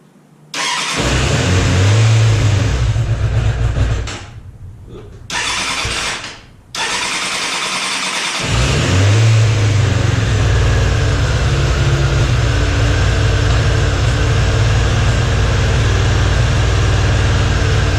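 A GFS600 engine with its PAIR valve hooked up cranks and starts, stumbles and cuts out twice, then catches and settles into a loud, steady idle close by.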